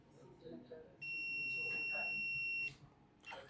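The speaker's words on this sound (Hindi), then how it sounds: "ये मीटर में बजर की आवाज़ आ रही है" A multimeter's continuity buzzer sounds a steady high-pitched beep for about two seconds as probes touch a shorted MOSFET on an LED TV board, with faint background noise around it.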